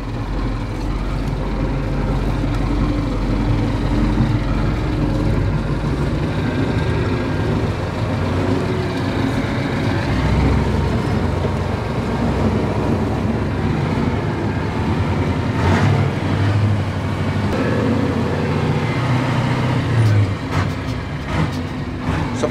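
Steady, loud truck engine idling and revving through a homemade vertical exhaust, a continuous low rumble that swells slightly midway, with no talk over it.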